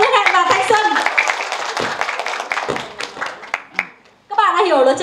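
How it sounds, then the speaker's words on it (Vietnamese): At a 20-year class reunion for class A6 of Nam Sách High School in Vietnam, an audience claps for two competing teams, with sharp, scattered hand claps mixed with voices before fading and then giving way to talk. "Chúng ta hãy dành một tràng pháo tay thật lớn cho Ước Hẹn và Thanh Xuân"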